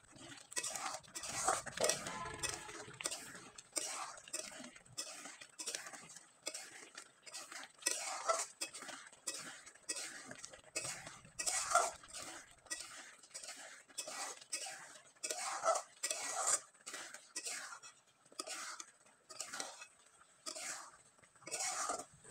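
A spoon scrapes and stirs thick, sticky basmati rice batter in a pot with a repeated rhythmic clinking and scraping, near and moderately quiet. A faint cough and a whisper sit underneath.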